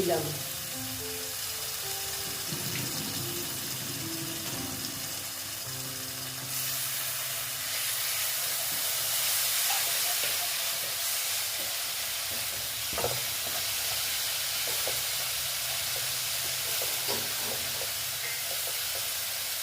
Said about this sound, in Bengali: তারপরে আমি দিচ্ছি টমেটো দেখো এটা আমি গ্রেড করে নিয়েছিলাম